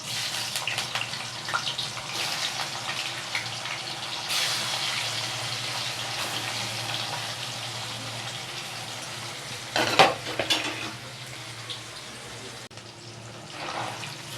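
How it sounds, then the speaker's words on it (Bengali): Paneer fries in hot refined oil in a wok, a steady, close sizzle with stirring noises and one sharp utensil clatter about two-thirds of the way through. "পনিরটা একটু ভেজে নিচ্ছি।"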